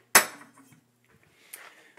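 A stainless steel spoon used for homebrewing gives one sharp, close clink, followed by fainter light metallic taps and rattles.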